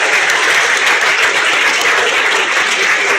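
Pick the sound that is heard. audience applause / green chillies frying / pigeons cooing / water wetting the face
audience applause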